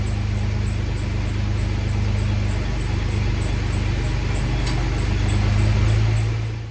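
A Chevrolet S10 pickup engine held at wide-open throttle, a loud steady droning roar with a slight rise in pitch toward the end before it tapers off, close up with no voices.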